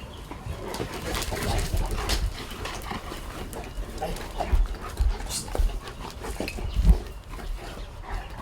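Forest dogs playing nearby, with panting, scuffling, and short growly huffs and yips, accompanied by faint bird sounds and bumps.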